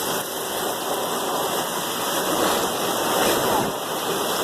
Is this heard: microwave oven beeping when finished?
no